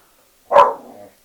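A dog gives a single sharp bark close by, a short loud burst that trails off into a brief rough tail, with quiet before and after.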